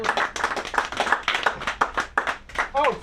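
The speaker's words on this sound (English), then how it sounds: "thank you guys for clapping almost until I got to the stage" At a comedy show, a crowd claps for a comedian with a rhythmic, fairly close pattern of synchronized hand claps, with a brief voice rising at the end.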